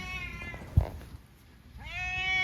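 A cat meows close by, a drawn-out call at the start and another rising meow near the end, with a brief thump in between.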